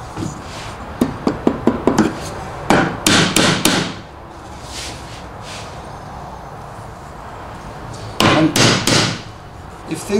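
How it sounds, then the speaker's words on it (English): Hammer blows driving nails into a wooden tool box, bursts of sharp close strikes, quick single taps then faster runs of three or four, separated by a quiet pause before a final cluster. "you can just use your hammer to realign it"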